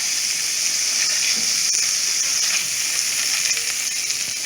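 Butter melting into hot chorizo grease in a pan gives a steady, close sizzle and hiss with no break, alone and with no talking.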